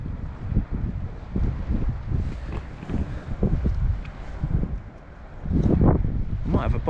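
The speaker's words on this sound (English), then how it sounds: "It's southwesterly winds, so the wind is coming from over there." A southwesterly wind gusts across a beach at Amlwch, Anglesey, north Wales, buffeting the microphone in uneven, rumbling bursts that swell and ease, with someone talking through it.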